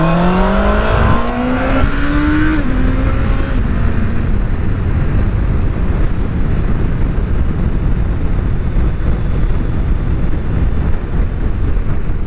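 Vehicle engine accelerating as the throttle opens, a rising tone sweeping upward over the first seconds and then settling into a loud, dense, steady roar up close.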